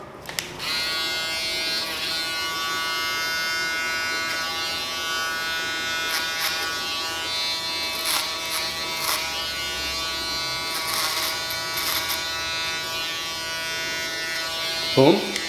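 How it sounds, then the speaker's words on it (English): A steady electric shaver buzz runs continuously at close range during a bald fade haircut, with brief scraping shifts as it moves, and a short louder rattle near the end. "All right, a little bit of that shaver."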